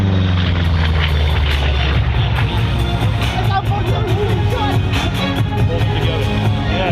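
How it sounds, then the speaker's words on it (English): A P-47 Thunderbolt fighter with an 18-cylinder radial engine roars past close by at an airshow, a loud, steady, throbbing drone with a rising and falling pitch as it flies over. "That is a big round engine, 18 cylinders, and it pulls that heavy airplane up into the sky."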